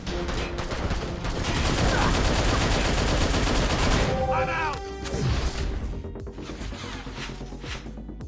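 Gunfire in Hero Hunters, a third-person cover-based shooting game on mobile, with sustained loud automatic bursts and crashing impacts, a brief lull, then more shooting, mixed with game sound and some voice.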